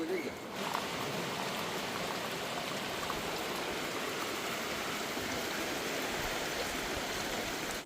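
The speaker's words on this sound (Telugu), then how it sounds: "వర్షం అయితే ఒకటే రేవండి ఎక్కడ ఆగట్లేదు ఉదయాన్నే" Heavy morning rain pours steadily outside a thatched shed, a dense, even hiss that holds at the same loudness throughout without pause.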